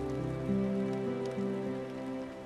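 Heavy rain pours in a steady hiss during a television drama scene, heard beneath sustained musical tones.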